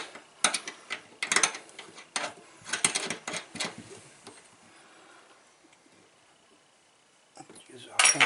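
Metal parts clink and rattle in sharp, uneven bursts while a retainer is fitted back onto a Delta kitchen faucet during a repair. A quiet stretch follows, then a final cluster of clanks.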